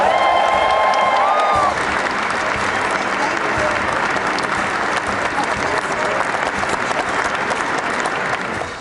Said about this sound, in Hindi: डोनाल्ड ट्रंप ने जैसे ही अमेरिका के 47वें राष्ट्रपति की शपथ ली, पूरा हॉल तालियों की गड़गड़ाहट से गूंज उठा।